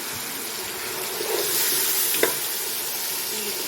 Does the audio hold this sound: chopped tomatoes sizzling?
yes